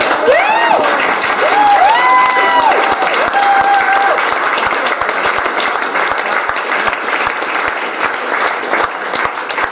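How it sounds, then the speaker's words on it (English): Applause and cheering from wedding guests fill the room steadily for about ten seconds, with whoops and a voice rising over the clapping at the start. "Let's have a round of applause for Kelly."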